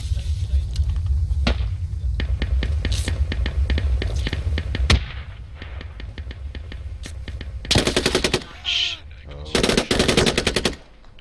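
Rapid automatic gunfire rattles through a video game squad firefight, long bursts of shots then sharper loud volleys later, with some voice chatter underneath.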